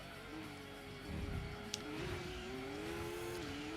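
A race car engine in the Gran Turismo 2 video game drones and revs with a wavering whine, rising and falling in pitch as the car accelerates, with a brief squeal-like burst partway through.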